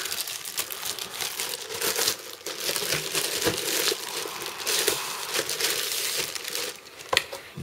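A taped plastic bag holding Middle Earth collectible card game cards being opened and handled, close, busy crinkling and crumpling that comes in bursts with a few sharper rustles.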